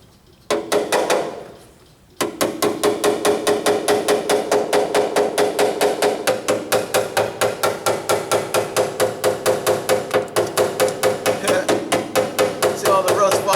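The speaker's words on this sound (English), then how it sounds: "Pick me an old hammer." An old hammer beats a rusty rocker panel on a 1998 Ford Ranger 4x4, a long fast run of loud, evenly spaced metallic blows close by after one brief opening strike.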